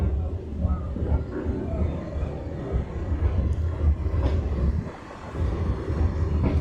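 A metre gauge passenger train hauled by a YDM4 diesel locomotive pulls out of Visavadar Junction on the Junagadh–Chalala line, a steady close rumble of wheels and engine rolling on throughout, dipping briefly before resuming.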